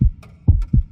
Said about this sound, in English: It sounds like a human heart.